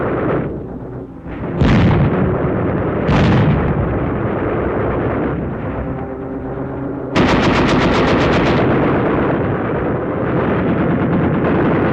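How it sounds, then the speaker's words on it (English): Machine gun fire in a WWII battle during the 1940 German airborne assault in Holland, with rapid sustained bursts, loud and close, layered with heavier gunfire and explosive booms, no voices. "Under cover of machine gun fire"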